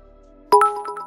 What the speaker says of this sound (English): Should we ring the doorbell?